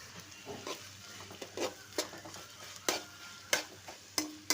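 Onions and green chillies with salt are stirred in a pan, a quiet, low sizzle broken by several sharp, irregular scrapes and knocks of the spoon, with no talk.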